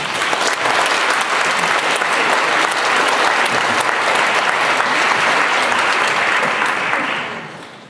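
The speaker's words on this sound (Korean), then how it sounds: "자, 우리 박수로 환영하세요." Audience applause welcoming a speaker at a Korean church assembly, dense steady clapping from a large room that holds for several seconds and then fades out.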